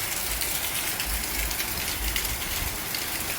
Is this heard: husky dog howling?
no